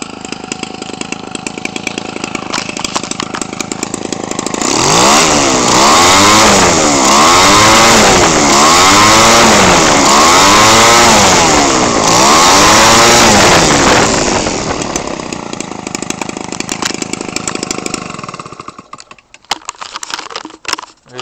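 A Homelite 25cc two-stroke engine converted for an RC plane runs loud and close, its buzzing drone rising and falling in repeated revving swells before settling back to idle and cutting out.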